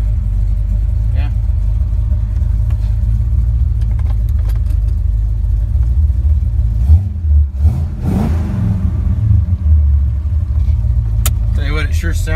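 A 1979 Chevrolet Corvette's engine runs with a deep, steady low rumble close by, rising briefly midway, while someone talks over it.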